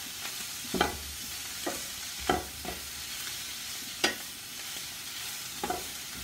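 Carrots and pepper stirred in a pan: a soft, continuous sizzle broken by several distinct scrapes of the spoon against the pan, close and unaccompanied by talk.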